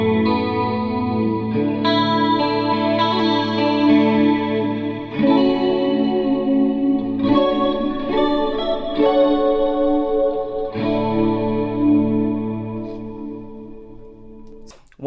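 Electric guitar run through a Fractal Axe-Fx II stereo panning delay patch with a dotted rhythm, sustained chords and picked notes smeared by chorus-like modulation and repeating echoes, loud and continuous with no talk.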